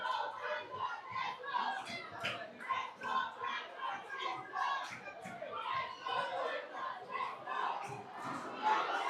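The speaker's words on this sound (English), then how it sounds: "Can they respond to the chant of their faithful?" A large crowd of schoolchildren at an inter-primary girls' football final shouts and chants for their team, a dense, continuous wall of young voices with rhythmic surges, loud and close throughout.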